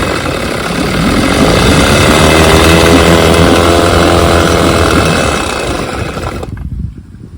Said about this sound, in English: There's Chuck's carburetor running good on the 6 horsepower